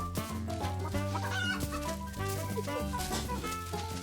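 Chickens cluck repeatedly in a video game demo, set against steady tonal game music with a low bass line, with no talk.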